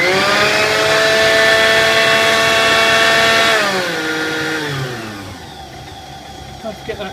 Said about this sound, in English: turn the speed control on to check the motor's functioning okay, and if that's okay, then up to the top speed